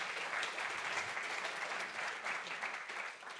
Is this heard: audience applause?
yes